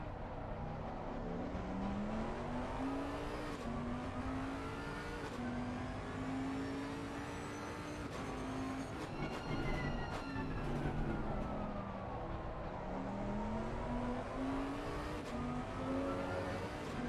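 Race cars at Donington Park in Assetto Corsa Competizione roar continuously through the whole stretch, their engine notes rising and falling with shifts and passes, loud and steady with no voices over them.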